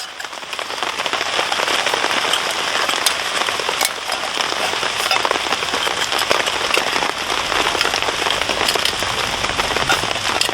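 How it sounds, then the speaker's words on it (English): Steady heavy rain patters on a wild campsite in wet, windy UK weather, a dense continuous hiss of drops hitting surfaces close by, with no voices. "Oh, look at that rain."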